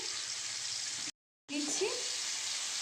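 Potatoes go into hot oil with black cumin, a steady sizzle that cuts out briefly and then returns slightly louder with a few crackles.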